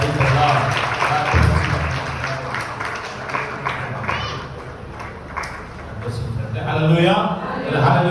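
A church congregation claps along in a service, with rhythmic hand claps mixed into loud, lively voices and a preacher talking over the crowd.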